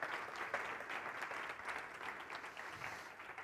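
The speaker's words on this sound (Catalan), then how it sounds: "Així que un aplaudiment per a ella." An audience applauds the crime-novel author Alicia at a book event, a steady, dense wash of clapping from a crowd that holds evenly for several seconds with no one speaking.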